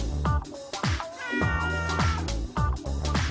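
A cat meows repeatedly, several loud, close, drawn-out cries in an uneven rhythm with short pauses between them.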